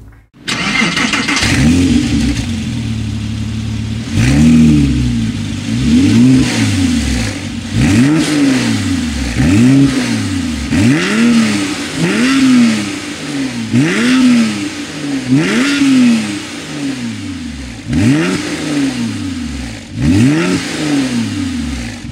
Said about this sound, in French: la voiture elle est équipée d'une paire de silencieux Scar Ultima Recital